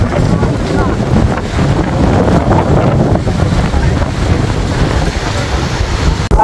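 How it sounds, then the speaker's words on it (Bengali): Strong gusty wind roars over the rough, churning Meghna river at Ilisha launch ghat, a loud, unbroken rush of wind buffeting the microphone with water and waves beneath it. "বাতাসের হচ্ছে প্রচুর চাপ, মেঘনা প্রচুর উত্তাল"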